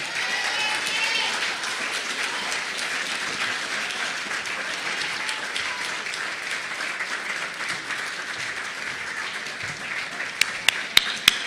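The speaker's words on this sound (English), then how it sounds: "I think Mr. Gums deserves a standing ovation and a round of applause." Sustained applause from a launch-event audience giving a standing ovation, a dense wash of many clapping hands holding steady throughout, with a few sharp taps near the end.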